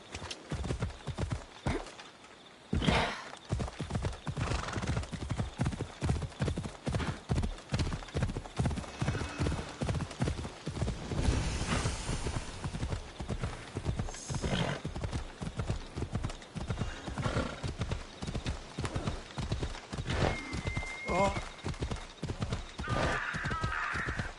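A horse gallops in Assassin's Creed on PS4, its hooves beating a loud, fast, steady rhythm throughout, with an occasional whinny and game ambience underneath.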